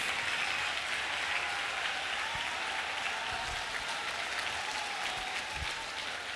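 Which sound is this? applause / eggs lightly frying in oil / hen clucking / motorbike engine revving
applause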